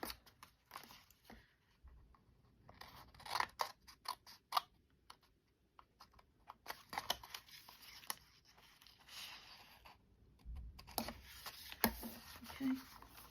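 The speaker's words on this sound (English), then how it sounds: "I'm just going to cut those off" Scissors snip paper pockets for a handmade Christmas journal, scattered crisp cuts and rustling handling sounds, close and soft, with occasional quiet talking between snips.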